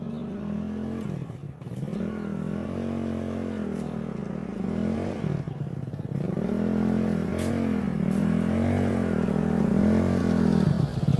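Motorcycle engine running steadily while riding a rough, unpaved dirt road that turns muddy after rain, the throttle rising and easing with occasional clatter and scrapes from the bumpy surface, close and continuous throughout.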